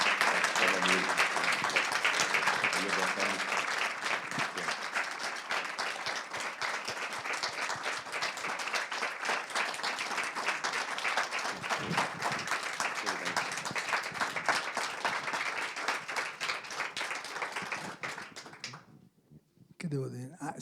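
Audience applauding to welcome film director Marco Bellocchio at a screening event, sustained dense clapping that runs loud and steady before thinning and cutting off near the end.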